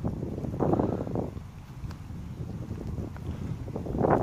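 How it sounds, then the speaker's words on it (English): Breezy wind rushes and buffets the microphone along a hiking trail in a Tennessee wildlife management area. It makes a steady low roar that swells at the start and end, with no talking. "Kind of breezy, a little bit chilly."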